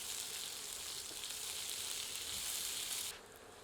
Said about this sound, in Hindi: एक छोटी प्याज को फांकियों में काटकर डालते हैं और इन्हें पारदर्शी दिखने तक मध्यम